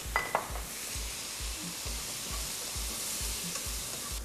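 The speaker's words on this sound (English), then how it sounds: "My onion has started frying beautifully" Sliced onion sizzling and frying in a pan with a steady hiss, while a utensil stirs and scrapes in regular strokes roughly every half second, close by and alone.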